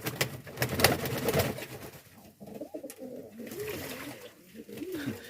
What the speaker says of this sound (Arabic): انتم الحمام كيفاش كيدوش